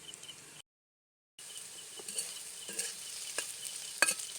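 Watermelon rind fried with egg in a covered pan gives a soft, continuous sizzle with light stirring scrapes, after a brief moment of silence near the start.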